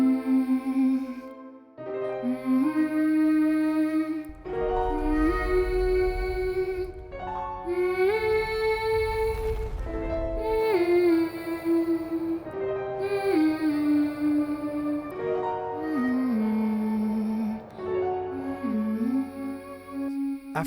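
An orchestral melody harmonized with a diminished cycle of minor chords, with a sustained lead line gliding over layered strings and deep low swells. The music plays alone and steady for about twenty seconds.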